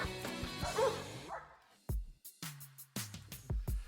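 Sled dog huskies barking in short, sharp bursts, several loud close barks and yips following a stretch of whining howl, coming in quick irregular succession.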